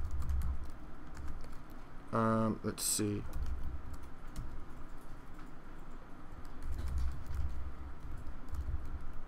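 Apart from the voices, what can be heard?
typing on a computer keyboard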